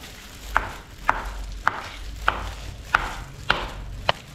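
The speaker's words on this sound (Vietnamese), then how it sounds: "về cái phần lỗ tai và lỗ mũi này nè các bạn, thì các bạn sắc miếng nhỏ nhỏ ha" Chopped pig ears and snout meet a knife on a cutting board in seven crisp, evenly spaced cuts about half a second apart, close and fairly quiet over a soft kitchen background.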